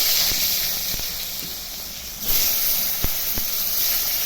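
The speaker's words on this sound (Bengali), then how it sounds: "আলুগুলো ভেজে নেব।" Potatoes fry in hot oil with a steady sizzling hiss that swells midway, with a few sharp clicks from the pan.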